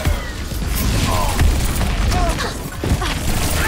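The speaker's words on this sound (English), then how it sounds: "I'm just shooting blindly." Chaotic Overwatch combat fills the air with dense, continuous gunfire, sharp bursts and booming impacts, loud and close, with a faint voice underneath.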